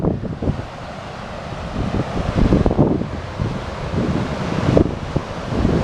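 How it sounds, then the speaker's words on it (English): Paine Waterfall in Patagonia, Chile roars as a steady, broad rush of falling water, loud and continuous with gusty wind buffeting the microphone throughout. "You can hear the roar of the water, such power in it."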